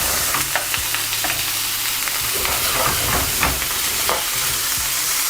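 Peppers and mushrooms with a pinch of salt sweating in a pan for a chicken wrap, a loud constant sizzle close by, with frequent sharp scraping and stirring taps over it.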